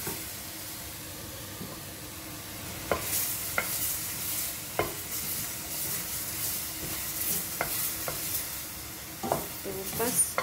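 Chopped fresh tomatoes sizzle in a pan for shahi paneer gravy, with a soft steady frying hiss broken by repeated clacks and scrapes of a spoon stirring, close and moderately loud, no voices.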